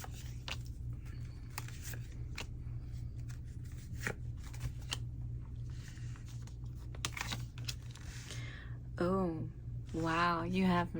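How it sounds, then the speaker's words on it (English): Tarot cards being shuffled and drawn, giving repeated soft papery riffles and snaps, with a person talking over the card handling throughout. "I'm just going to draw 3 more cards"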